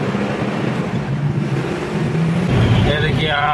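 Steady road traffic noise beside a parked truck on a rural road near Nashik farmland, a continuous low vehicle rumble with engine drone, louder toward the end, and talk faintly mixed in.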